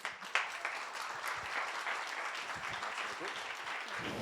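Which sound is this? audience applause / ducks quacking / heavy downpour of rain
audience applause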